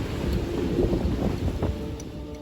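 Strong wind of around 35 knots roars across a boat heading into harbor, a steady low buffeting rush with gusty swells and faint water noise, no voices present.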